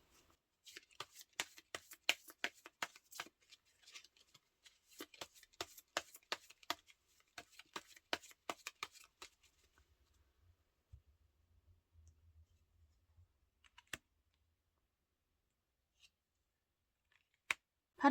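Tarot cards are shuffled in a run of crisp, rapid riffling clicks, then a pause and a few soft drawing taps and single card slaps, quiet and close with no talk.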